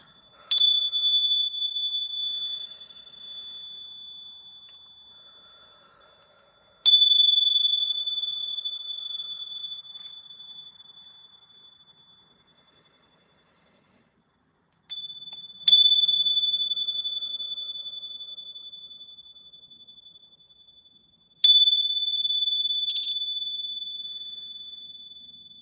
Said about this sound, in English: I think I'm gonna ring the bells for that